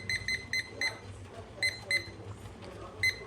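A kitchen timer is set during bean canning, giving a string of short, high electronic beeps in uneven clusters from close by, over a low background hum.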